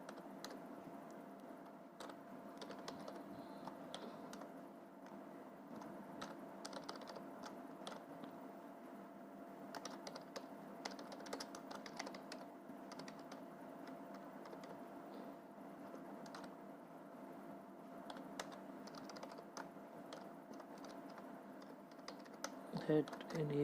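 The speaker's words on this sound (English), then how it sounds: "Now I am typing the first web page which we are going to link." Steady clicking of a computer keyboard while someone types an HTML web page, a continuous quiet patter of keystrokes over a low room hum, with no pauses for nearly half a minute.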